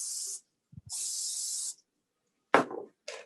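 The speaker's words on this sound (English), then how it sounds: "Open those and spray them because my hands are all eggy." Cooking oil hisses from a spray can into cast pie irons for a breakfast cook, in two sustained bursts. A light clack comes between them, then a couple of short scraping knocks of the metal irons.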